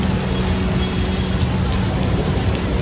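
Heavy rain pours down in a dense, steady hiss of drops hitting surfaces, loud and close throughout, with no voices.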